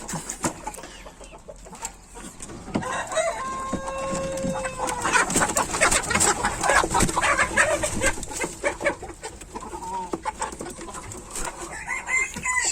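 Chickens cluck continuously in a coop, with busy overlapping calls, a few drawn-out squawks and some crowing-like notes, steady and fairly close with no talking.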